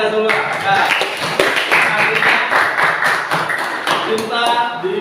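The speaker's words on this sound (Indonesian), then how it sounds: "Ya, tepuk tangan untuk Andika semua." A class of students claps for a classmate named Andika in a school lesson, a dense, continuous patter of hands lasting several seconds with voices mixed in.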